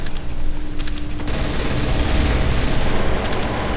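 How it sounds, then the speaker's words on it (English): Sustained automatic gunfire in Counter-Strike, loud and dense bursts rattling continuously from close range, thickening after the first second with booming impacts underneath. "Taking fire."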